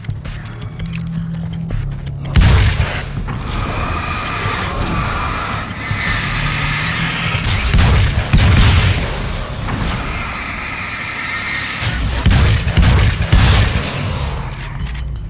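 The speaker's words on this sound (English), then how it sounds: "Oh, combat shotgun. Let's try it." A combat shotgun fires in the video game Alan Wake's American Nightmare. About five loud, booming blasts come at uneven intervals, some in close pairs, over a constant rumbling game ambience.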